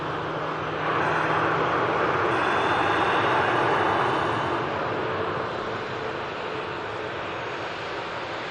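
A passenger aircraft taxis at Manchester Airport, its engines making a steady broad roar that swells after the first second, holds, then eases back to a lower hum.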